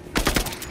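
Rapid burst of gunfire from the video game Marvel's Avengers, three or four quick loud shots in close succession, sharp and near.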